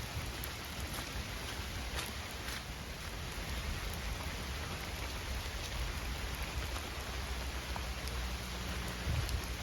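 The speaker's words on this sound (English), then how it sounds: "it looks like the rain is here to stay" Steady rain drumming continuously on surfaces outdoors during a day of camping travel under a stalled weather front, a dense unbroken hiss with scattered louder drops and a low rumble underneath, no voices.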